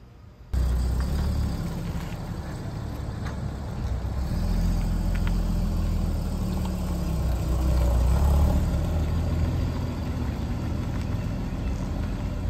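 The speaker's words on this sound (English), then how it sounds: "That exhaust is nice." Porsche 981 Cayman engine and exhaust idling steadily with a deep, continuous rumble that swells slightly midway, heard close and loud with no talking over it.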